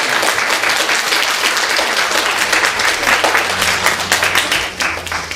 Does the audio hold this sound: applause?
yes